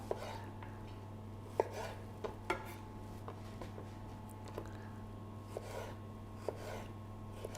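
A knife cuts a pepper on a board with scattered soft taps and crisp clicks, faint and close, over a steady low hum.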